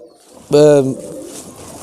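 A pigeon gives one short, near, loud harmonic coo lasting under half a second, then quiet background murmur follows.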